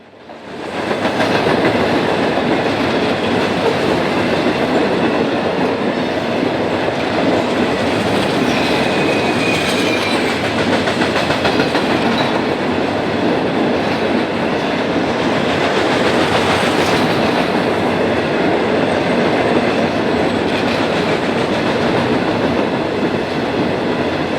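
A Norfolk Southern freight train led by SD70M-2 locomotives rolls past steadily, a loud sustained rumble of engines with rhythmic wheel clatter over rail joints and faint metallic squeals, no voices.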